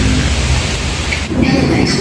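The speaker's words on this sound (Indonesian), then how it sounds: "cuaca makin hujan" Rain falls outside a parked car as a loud, steady, close hiss with no breaks, a dense wash of patter that covers the entire moment.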